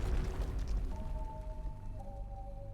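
An explosion in the video game Ai: The Somnium Files - Nirvana Initiative, a deep rumbling boom that decays over a couple of seconds while faint sustained tones ring out beneath it.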